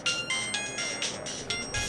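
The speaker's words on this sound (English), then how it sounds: "Sorry, Mason's calling" An electronic ringtone for an incoming phone call plays in a steady repeating pattern of bright, pulsing tones, loud and close, with no talk over it.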